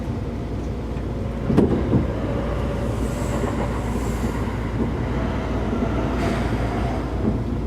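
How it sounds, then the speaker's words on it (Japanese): Keikyu 2000 series electric train, set 2051 with a car noted for abnormal noise, running on a morning limited express between Kamiōoka and Keikyū Kamata, a steady loud interior rumble of motors and wheels with occasional clicks of rail joints. "電車動きますのでご注意ください。"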